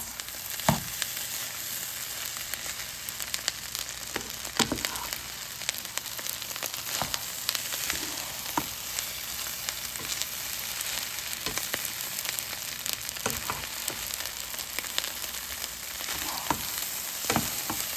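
Plain rice stirred and fried in a pan, with a steady close sizzle broken by scraping and stirring knocks that recur throughout, and no talk.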